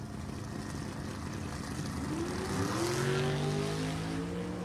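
Drag race launch of a 2007 Corvette with a 427 Chevy engine beside a 1938 Chevy sedan, engines roaring up in rising pitch from a distance, a loud, steady drone with no talk.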